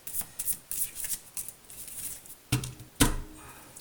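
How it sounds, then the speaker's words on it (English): A large tarot-style deck of cards is shuffled in small portions, giving soft papery riffles and rubs that build to two louder snaps near the end, close to the listener with no talking. "I can only ever shuffle, you know, a few at a time"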